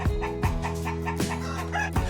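A dense, continuous chorus of clucking and squawking from a flock of about 70,000 free-range chickens on a farm, with a low steady hum underneath.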